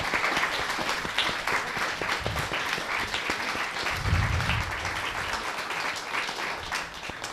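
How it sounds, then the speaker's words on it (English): A crowd at a US election discussion event claps for the two hosts, Claudia and Katie: a long, even wash of applause from many hands, moderately distant, holding steady for several seconds. "Can we please give Claudia and Katie a huge round of applause?"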